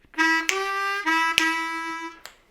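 A harmonica in A plays a short bluesy phrase of sustained reedy notes, 2 draw then a 3 draw half-step bend, ending in a brief final note; solo and close.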